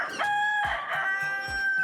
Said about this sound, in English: Whatever time comes to mind at any given moment of your day, they crow at that time.